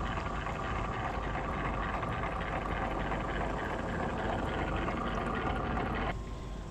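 An Aiper Surfer S1 cordless robotic pool skimmer runs on the water surface, a steady soft whir and watery churn that continues evenly before cutting out near the end.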